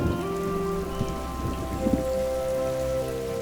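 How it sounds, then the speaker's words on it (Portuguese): Heavy rain in the Amazon rainforest at the start of the rainy season pours as a dense, constant hiss, with a few louder drips standing out near the middle. "No horizonte, uma nuvem escura anuncia a chegada das chuvas."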